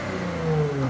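A Porsche Panamera engine with a straight-pipe exhaust revs up steadily at close range, a loud, sustained mid-pitched roar that climbs through the short burst.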